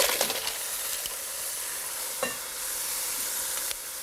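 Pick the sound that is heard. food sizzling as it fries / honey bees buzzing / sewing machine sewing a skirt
food sizzling as it fries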